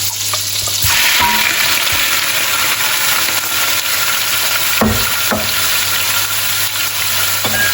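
Shrimp frying in butter in a pan give a loud, steady close sizzle throughout, broken by a few sharp knocks and scrapes of a utensil moving them around.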